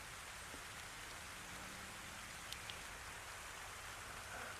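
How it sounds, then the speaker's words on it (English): Steady rain falls in a continuous dense hiss, with a couple of faint drips or taps standing out briefly; no voices. "Now you can hear the rain coming down."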